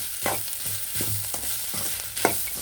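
Grated coconut fries with tempering in a pan, a soft sizzle under rhythmic spatula scrapes and stirs, roughly two strokes per second, close and clear.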